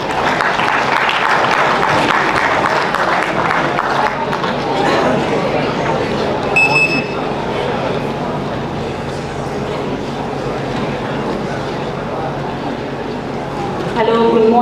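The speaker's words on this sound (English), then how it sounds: "welcome her with a huge round of applause" An audience at an entrepreneurship summit at IIM Amritsar gives sustained applause, a dense, loud wash of clapping that holds for many seconds before thinning out, with some chatter mixed in.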